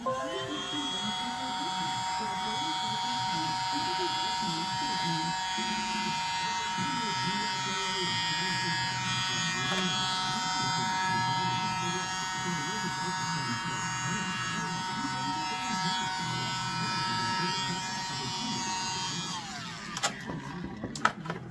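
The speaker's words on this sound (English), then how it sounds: "I'm going to use my blower again." A small handheld mini blower whirs steadily at close range for about twenty seconds, blowing acrylic pour paint across a Christmas bauble, with a high, even electric motor hum that cuts off near the end, followed by a few handling knocks.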